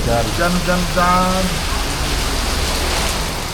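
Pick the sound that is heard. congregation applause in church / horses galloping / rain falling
rain falling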